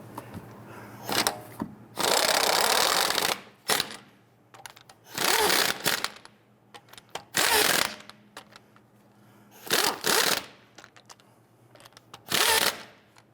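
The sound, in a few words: tightening car lug nuts on a Jeep Grand Cherokee wheel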